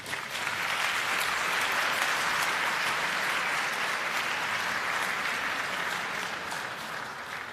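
Steady audience applause at an awards ceremony welcomes a General Motors speaker to the stage, a dense wash of clapping holding evenly for several seconds before easing slightly at the end.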